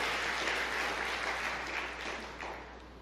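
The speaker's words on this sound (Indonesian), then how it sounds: "Berikan tepuk tangan yang meriah betul." A church congregation claps loudly and continuously, the applause fading slightly toward the end.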